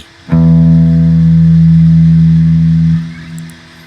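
The low E sixth guitar string is plucked and rings loudly with a deep, buzzing sustain before being cut off after about three seconds.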